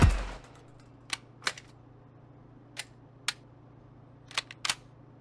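Sharp single shots from a gun fired from the hip in the shooter game Marauders, about seven crisp cracks at irregular intervals over a faint steady hum, isolated and fairly close.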